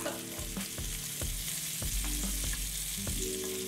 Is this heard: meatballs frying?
yes